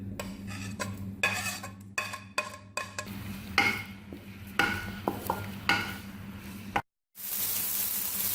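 Onion with ginger garlic paste fries in oil, heard as repeated metal spoon scrapes and clinks against the pan over a faint sizzle, stopping abruptly near the end.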